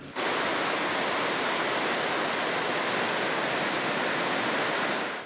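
Floodwater pours over a full, overflowing Wyangla Dam, a loud, unbroken roar of rushing water that holds steady from start to finish.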